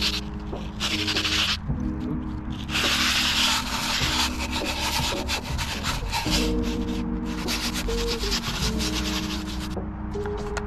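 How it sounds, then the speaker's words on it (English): A wooden skateboard deck with grip tape being sanded: continuous close abrasive rubbing in long back-and-forth strokes, loud and steady with brief gaps and no talking. "Let's sand it and let's skate it."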